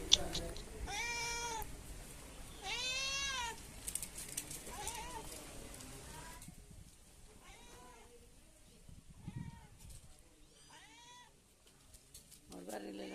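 A mother cat and her kittens meow repeatedly nearby, high wavering cries in short bursts with pauses, some softer and farther off, with faint household background.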